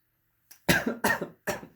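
Three loud, close coughs in quick succession, each a harsh burst with a short gap between, preceded by a faint breath.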